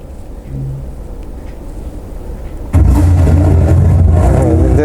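A racing car engine in the video game Grid Autosport bursts in suddenly and revs loudly and steadily after a quieter stretch of background hum.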